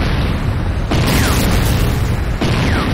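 A GDI weapons factory exploding in the Renegade video game, two heavy booming blasts about a second and a half apart over a loud, continuous rumbling roar.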